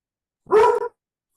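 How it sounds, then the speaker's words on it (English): A single loud dog bark, close and sharp, a short burst standing alone in otherwise silent surroundings. "thanks to my loud dog"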